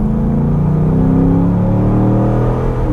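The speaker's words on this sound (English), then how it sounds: "if you floor this car" A 2012 Chevrolet Corvette Grand Sport with a small-block V8 pulls hard at full throttle, its loud, deep engine roar steady and rising in pitch as it accelerates, close and with no talk over it.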